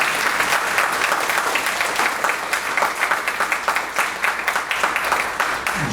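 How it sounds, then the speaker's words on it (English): An audience at the Ms. Senior Davie County 2024 pageant claps for a contestant, loud close applause with distinct individual claps standing out, steady throughout. "Let's give a round of applause for Janet."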